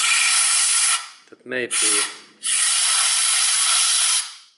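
Cleaner sprays in hissing bursts onto a Ford Zetec engine's MAF air flow sensor, two long sprays split by a short gap where a voice briefly speaks.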